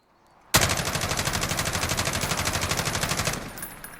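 An MG36 machine gun in Call of Duty Modern Warfare, fed from a 100-round C-mag, opens up suddenly in a loud, rapid full-auto burst lasting about three seconds, then cuts off with a short ringing tail.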